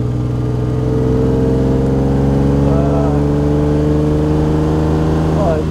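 Engine of a 1938 Alvis Speed 25 SB while driving, a low, steady rumble with droning harmonics, running near and continuous under talk.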